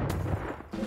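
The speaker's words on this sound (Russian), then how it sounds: "Бах, меткий выстрел." Gunfire in the battle game Totally Accurate Battle Simulator, a short, sharp crack followed by a second quick burst, fairly quiet and alone.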